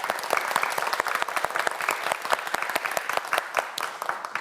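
A studio audience on a science quiz show claps in a dense, steady round of applause that is moderately near, holds for several seconds, then eases slightly at the end.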